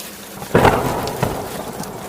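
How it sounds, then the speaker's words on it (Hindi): Heavy downpour with a thunder crack in a Hindi cartoon: a sudden loud rumble over steady hissing rain, close and without speech. "जो मूसलाधार बारिश शुरू हुई तो रुकने का नाम है नहीं ले रही थी।"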